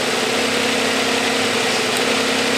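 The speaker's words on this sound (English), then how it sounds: "I'm going to disconnect the coil pack now. And you can hear a sudden reduction in the RPMs." A car engine idles with one ignition coil pack disconnected, giving a steady, loud, close running drone with a slightly uneven low hum throughout and no talk.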